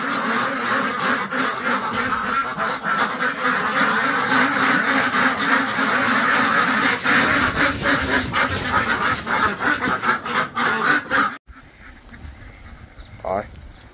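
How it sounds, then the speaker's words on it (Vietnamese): Farm ducks quack loudly and repeatedly, close by, as two are caught in a village, with a person talking over the flapping and calls before the sound drops to a quieter scene near the end. "Rồi, được hai chú vịt."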